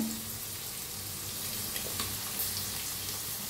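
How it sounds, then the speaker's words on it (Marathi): Chili, peanuts and peas fry in hot oil, giving a steady, close sizzle with faint crackles and a few soft stirring scrapes, with no talking. "तेलात छान असं भाजून घ्यायचं"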